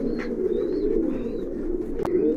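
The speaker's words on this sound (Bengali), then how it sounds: "এটা একটা মাদি কবুতর।" A female black Kaldom pigeon coos in a busy loft, a continuous low throaty rumble close by, with faint higher chirps from other birds above it and a brief click near the end.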